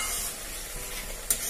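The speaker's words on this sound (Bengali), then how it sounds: "চিনিটা দিয়ে একটু মিশিয়ে নিলাম" A short, soft stir as sugar is mixed into a thick doi chingri, a yogurt prawn curry, in a pan, with a steady low sizzle of the simmering sauce and one small clink near the end.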